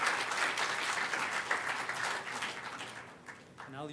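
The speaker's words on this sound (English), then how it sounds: "a big applause for the guys doing that" Audience at a HOPE Number Nine hacker conference talk gives a steady burst of applause that fills the room, clapping dense throughout and thinning near the end.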